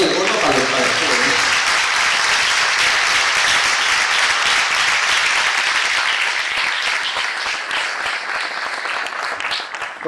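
An audience claps for musicians at a live Andalusian fusion concert, dense sustained applause filling the room and tapering slightly near the end, with a voice briefly audible at the start.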